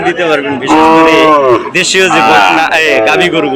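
A cow moos loudly and close by at a cattle market, a couple of long drawn-out calls back to back.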